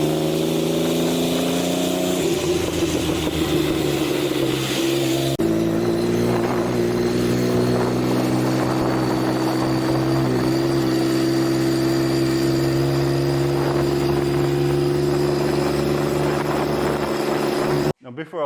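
A Can-Am three-wheeled motorcycle on new 16-inch rims is ridden past, its engine droning and revving through several gear shifts before cutting off abruptly at the end.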